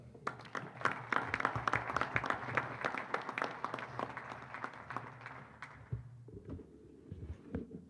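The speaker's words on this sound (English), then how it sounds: "A big round of applause for Sarah Kavanaugh" Applause from an audience at a football press conference, a steady wash of many hands clapping that fades out near the end, giving way to a lone voice.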